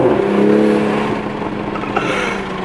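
A 2020 Toyota Supra engine revs steadily with a droning exhaust note that eases off, followed by a sharp pop from the exhaust near the end, heard close by.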